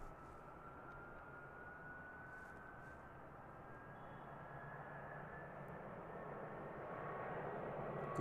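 An ATR turboprop airliner takes off at Christchurch Airport, heard from a distance as a steady broadband roar with a faint rising engine tone that slowly builds in loudness.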